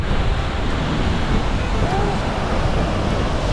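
Ocean surf breaks and splashes onto the shore of an Indonesian island, a loud, steady roar of churning water with wind buffeting the microphone throughout.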